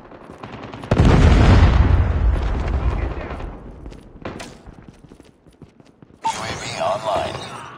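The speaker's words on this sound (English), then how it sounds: "Friendly Predator missile inbound. Hostile Predator missile inbound." A Predator missile strikes in the mobile shooter Call of Duty Mobile, a loud deep booming blast that rumbles and fades over several seconds, followed by a quieter lull and then another burst of noise.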